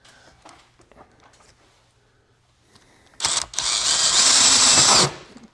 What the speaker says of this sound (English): This is even a Mr. Cool DIY hole saw made specifically.